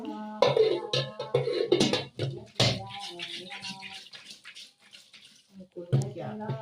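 Water pours and swirls inside a jar being washed in a kitchen, splashing in uneven bursts up close while someone talks over it.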